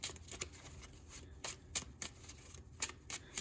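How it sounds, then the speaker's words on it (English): A Yu-Gi-Oh! card deck is given a quick shuffle by hand, a series of crisp riffling snaps and soft card slaps at close range, irregular and quiet. "Quick little shuffle."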